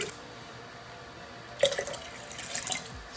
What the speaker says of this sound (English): Flopping those in there, and then I'm going to pour.